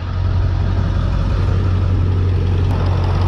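A Ford Excursion engine idles with a steady low rumble, loud and close, its drone unchanging after starting, with no voices present.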